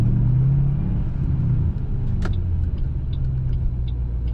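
A 3-valve Ford Mustang with a boosted engine pulls hard under acceleration, a loud close rumbling engine drone with a brief sharp knock midway, no talk.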